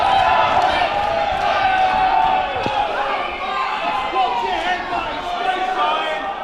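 At a boxing match for the British Challenge Belt, Martin Hillman against Tom McGinley, a packed crowd roars and cheers in a continuous loud wash, with voices mixed into the noise.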